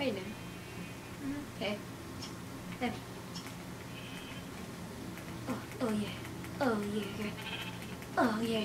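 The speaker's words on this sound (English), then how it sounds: "Come here, sheep." Sheep in the video game Minecraft bleat repeatedly in short, wavering cries spaced a second or so apart, heard over a low steady background hum.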